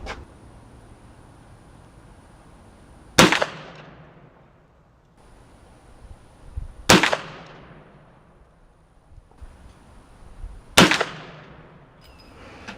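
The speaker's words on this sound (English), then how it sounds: "So I'm going to shoot a couple more down there" Three sharp, loud gunshots from a Henry .45 Long Colt lever-action rifle ring out several seconds apart, each one followed by a decaying echo across an open range.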